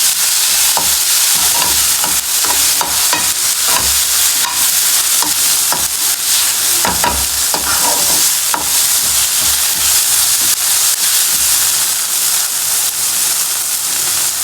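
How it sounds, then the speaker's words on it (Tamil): Sliced onions sizzle loudly in hot oil with ginger garlic paste added, steady frying hiss with frequent stirring scrapes and clatter of a spoon against the pan, close and continuous. "வெங்காயம் இந்த மாதிரி வதங்கும் போது இஞ்சி பூண்டு பேஸ்ட் போடணும்."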